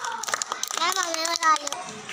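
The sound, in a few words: children clapping for a classmate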